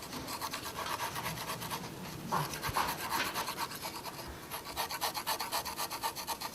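A craftsman scrapes and rasps the inner mold core for a cast iron kettle, making a continuous close rough rubbing with a quick, regular back-and-forth rhythm.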